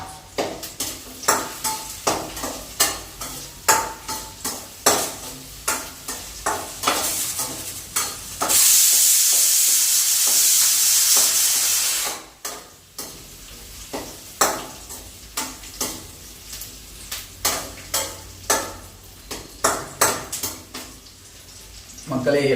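Garlic is stir-fried in a pan with a steady sizzle, broken by repeated rhythmic scrapes and knocks of a spatula against the metal. A loud burst of sizzling swells midway, and the cooking sounds run alone without voices.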